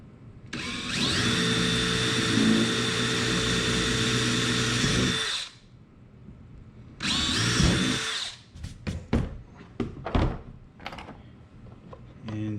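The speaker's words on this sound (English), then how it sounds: "Drill our 5/16 holes." A power drill whines loudly for several seconds drilling 5/16-inch holes for a trolling motor mount on a Perception Pescador Pro kayak, stops, then runs again briefly, followed by a series of knocks and clatters.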